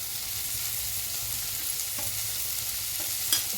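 Chopped green garlic and spring onion sauté in a pan, giving a steady, close sizzling hiss with occasional soft stirring scrapes and a light clink near the end.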